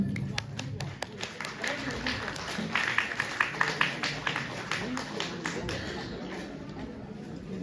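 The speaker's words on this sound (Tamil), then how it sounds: "உங்களுடைய பலத்த கரகோஷம்" Audience applause at a UK Saiva community seniors' evening event in Ilford, heard as a sustained wash of clapping with scattered sharper claps, moderately loud, with voices murmuring underneath.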